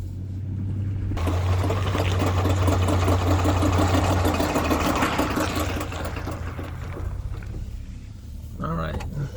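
A Ford Ranger pickup's engine runs with a steady low drone and a dense rhythmic knocking clatter on top while accelerating and turning in 4x4 mode, loud and close, easing off near the end.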